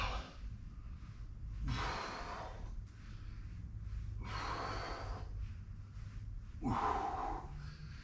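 Heavy, effortful breaths during a kettlebell workout, with three loud forceful exhales or gasps spaced a few seconds apart over quieter panting, close to the microphone and with no speech.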